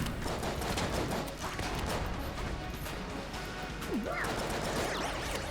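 Video game gunfire during a boss fight: a dense, continuous barrage of shots and crashing impacts, with a few rising synthetic zaps near the end, playing fairly quietly with no speech.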